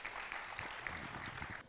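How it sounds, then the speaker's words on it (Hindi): A crowd claps in answer to a call for loud applause at a political talk, a brief, fairly faint burst of steady clapping that cuts off abruptly. "फिर से जोरदार तालियां हो जाए।"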